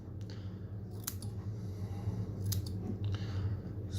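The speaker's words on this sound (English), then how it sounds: "start trimming off this top half." Scissors trimming the top half of wicking cotton in a Wotofo Profile atomizer build, a few faint crisp snips spread over a quiet background hum.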